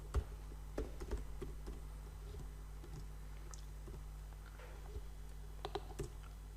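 Typing on a computer keyboard while writing Java code, a string of light scattered key clicks with a few brief pauses, close but quiet over a low steady hum.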